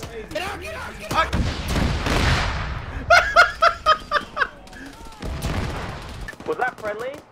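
Gunfire in Arma 3 during a Gulf War operation in Iraq: a quick run of about seven sharp, loud shots in the middle, with scattered bangs later, set among voices talking over the battle.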